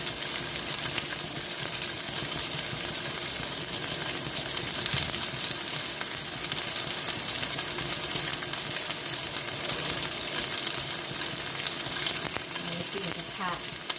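Pork sizzles steadily in a hot pan, a dense continuous crackle with occasional scraping, no voices.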